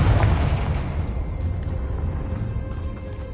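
A Confringo explosive spell blast in the Hogwarts Legacy video game: a loud, deep boom that opens the clip and rolls on as a sustained rumbling roar, slowly fading.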